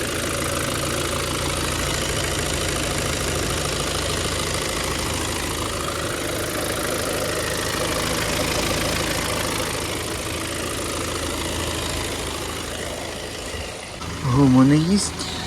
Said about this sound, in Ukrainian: Двигун працює гарненько